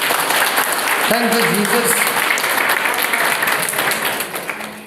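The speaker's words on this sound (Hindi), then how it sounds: "प्रभु को हम जोर से ताली बजाएंगे" A church congregation in Arunachal Pradesh applauds loudly during a worship gathering, a sustained dense wash of clapping that fades slightly at the end, with a voice speaking briefly over it.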